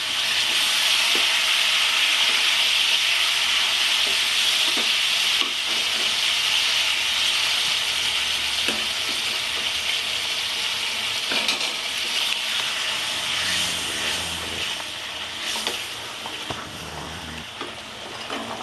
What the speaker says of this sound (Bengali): এবার আমি জল দিতে থাকবো।